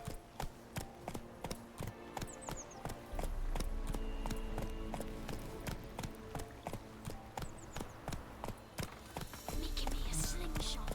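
A horse gallops in The Witcher 3, steady rhythmic hoofbeats repeating throughout, close and clear over game ambience, with brief louder stretches and a faint voice in places.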